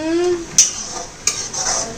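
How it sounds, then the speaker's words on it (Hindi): Dry red chillies and garlic drop into hot oil in a pan for a tadka, giving two sharp metallic clinks and a soft sizzle, close and fairly quiet, with a brief voice at the start. "तड़का लगाए बर सूखा मिर्ची और लहसुन"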